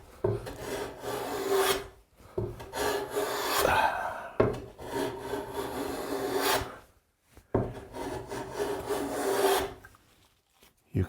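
A hand plane hogs material off a wooden workpiece in long rasping strokes, about five passes separated by short silences, close and loud with no talk.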